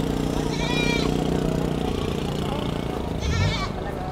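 Goats bleat at a busy livestock auction market in Cebu, two wavering calls rising above a dense, constant crowd and animal din with talk in the background.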